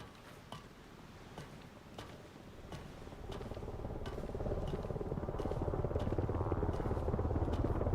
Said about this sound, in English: Maybe do it while there's a helicopter so he might not hear us.